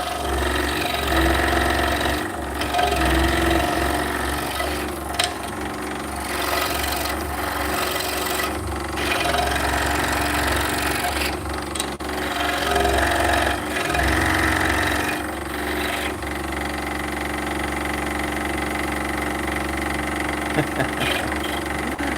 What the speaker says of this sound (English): The blade is a number 7. It's an Olsen Precision Ground Tooth PG2. And we're cutting 5/8 inch cherry.